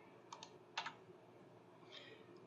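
A few quiet keystrokes on a computer keyboard: a couple of soft taps, then a short cluster of clicks, faint and close over a low room hum.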